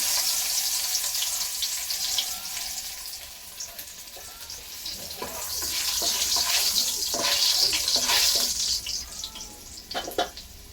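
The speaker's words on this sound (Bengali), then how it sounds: "তেল গরম হয়ে গেছে, এখন দিয়ে দিব একটু করে রসুন কুচি।" Chopped garlic crackles and hisses steadily in hot oil in a pan, a dense close sizzle that swells louder toward the end, with a few sharper spits and clinks.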